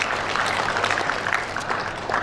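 Audience applause at an open senate session for a bachelor's degree graduation ceremony in Riau, a steady dense wash of clapping holding evenly throughout at moderate level.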